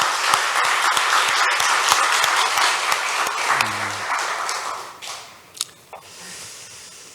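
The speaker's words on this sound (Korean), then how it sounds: "박수를 올려드리겠습니다." Church congregation applauding after a hymn, loud dense clapping that holds for about four seconds, then thins and fades into quieter room sound with a few scattered late claps.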